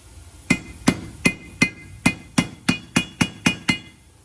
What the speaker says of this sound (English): that specific little noise that we hear when we hammer it that lets us know it's all the way seated